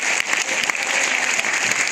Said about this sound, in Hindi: तालियां भी उसी स्तर की होनी चाहिए